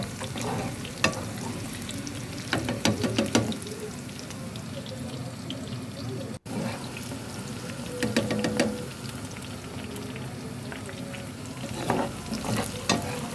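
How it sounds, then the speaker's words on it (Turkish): Eggplant sizzles steadily as it fries in a hot pan, with occasional clatters of utensils and a faint voice in the background. "Alalım kızarmış patlıcanlarımızı"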